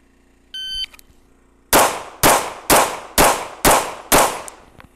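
Six loud, sharp pistol shots fired deliberately one at a time with a red dot sight, evenly spaced about half a second apart, following a brief electronic beep.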